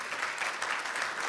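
A conference audience at a Muslim Council of Britain leadership event gives guests a steady round of applause, dense clapping sustained throughout.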